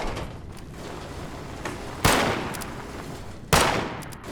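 Gunshots in Fallout 76, with two loud, sharp reports standing out over softer background shooting and rumble, each followed by a short decaying tail.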